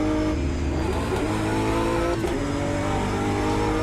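A BMW race car in the Automobilista 2 racing game holds a loud, continuous engine drone with steady harmonic whine, rising slightly in pitch as it accelerates, with faint tire noise underneath.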